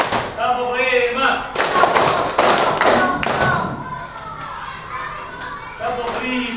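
Schoolchildren in a class clap out a counted rhythm, with rapid clusters of many hands slapping together alternating with chanting young voices, loud and near, with a noisy group feel.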